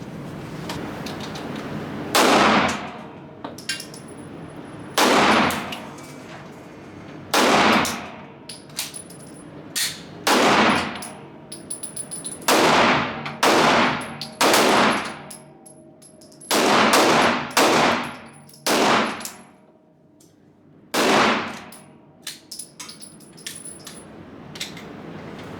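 Staccato C2 pistols fired at a range, roughly a dozen sharp close shots arriving singly and in quick pairs or bursts, separated by short quiet gaps with faint handling noise.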